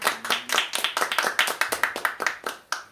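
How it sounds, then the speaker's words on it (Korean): A church congregation at a Sunday morning service claps in thanks to God after a mission trip to Thailand, with crisp, rhythmic hand claps in a steady, fairly quick beat, close and distinct, continuing for several seconds. "하나님께 감사의 박수로 영광을 돌리겠습니다"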